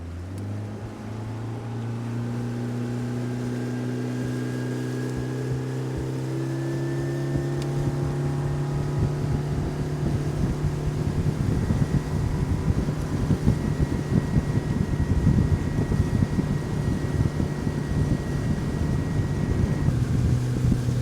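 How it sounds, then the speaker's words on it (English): A motorboat engine revs up and drones steadily at close range on a cold, windy lake, with gusting wind buffeting the microphone and water slapping beneath the hull. "All right, y'all, that was one cold ride"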